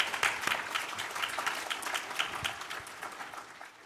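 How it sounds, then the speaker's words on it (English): A conference audience at a California native plant gathering gives a round of applause, steady dense clapping from a sizable crowd at moderate distance that gradually thins and fades toward the end. "Give yourselves a round of applause."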